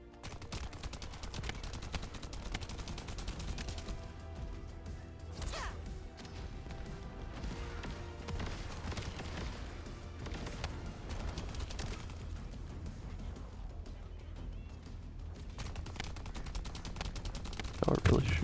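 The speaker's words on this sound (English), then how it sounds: "Y'all are really shooting me from behind." Constant gunfire in the shooter TFD: rapid automatic bursts and crashing impacts layered densely for the whole stretch, with a dialogue-like voice mixed in among the shots.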